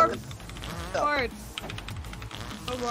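Keyboard buttons get mashed hard during an online game, a quick flurry of clacking keys up close, with players talking over a voice chat.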